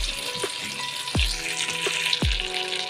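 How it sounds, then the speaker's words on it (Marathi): Whole spices, cinnamon stick, star anise, black peppercorns and cloves, frying in a pan for shahi paneer give a steady close sizzle, broken by a few sharp clinks of a utensil against the pan, with no talking. "आता हे खडे मसाले आपण मिनिटभर परतून घेऊया."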